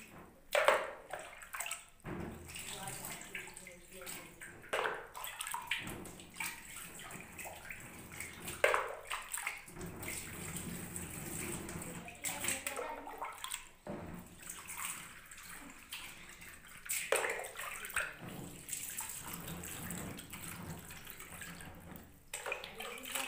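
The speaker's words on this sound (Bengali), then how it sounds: "তো এবার স্ক্রিনটা আমি জল দিলে স্ক্রিনটা আসবে।" Water runs and splashes onto a screen-printing screen as it is washed, a continuous rushing spray that rises and falls over time, close and moderately loud, with no speech.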